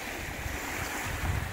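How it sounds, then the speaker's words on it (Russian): Waves on Lake Chlya wash steadily against the shore as a continuous broadband rush, with gusty wind buffeting the microphone and no voices. "Вот сейчас его волна несет к берегу"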